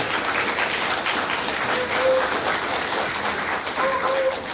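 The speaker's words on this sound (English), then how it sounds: "let's get a big round of applause for all of our panelists" A crowd applauds, a steady wash of clapping hands that carries on for several seconds at moderate loudness.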